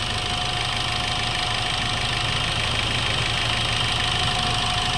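A 2020 Hyundai Accent diesel engine, with heavy smoke and oil spitting from the dipstick, runs loud and close with a steady, even clattering drone and no clear rise in revs.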